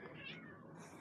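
A cat meows once in a garden, a close, drawn-out cry lasting about a second against steady outdoor background noise.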